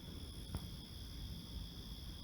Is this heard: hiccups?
no